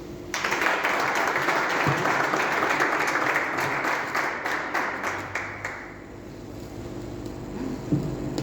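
An audience at an academic lecture on the Catholic left in Argentina claps to welcome the speaker, a full, sustained round of applause that thins and fades out toward the end as a few scattered claps remain.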